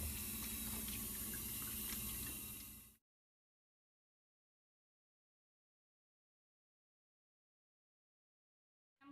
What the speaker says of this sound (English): I'm going to go practice my hand hygiene